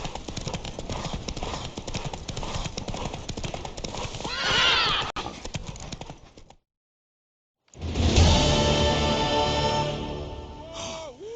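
Rapid hoofbeats of a horse in The Witcher 3: Wild Hunt pound along steadily, broken by a whinny and a moment of silence, then the galloping resumes loud and close.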